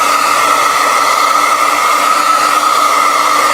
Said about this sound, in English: I'm going to use the dryer for a second again.